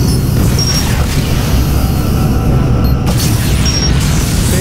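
In the Star Trek Legacy video game, a starship's phase cannon fires and a target blows up, giving a loud, sustained, roaring boom with a rumbling low end and a sharp burst partway through.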